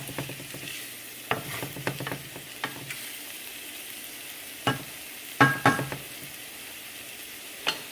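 Vegetables fry and brown in a pan for a cheesesteak egg roll filling, with a soft continuous sizzle broken by scattered sharp clinks and scrapes of a utensil stirring against the pan.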